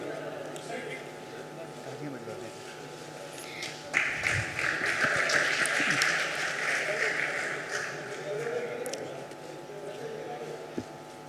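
Audience at the University of Lucknow's 64th convocation breaking into applause midway, a moderate swell of clapping that holds for several seconds under a speaking voice on the hall's public address.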